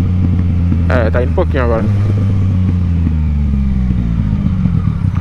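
A motor vehicle engine runs with a steady, low, loud rumble that lifts slightly as it is revved, while someone talks over it.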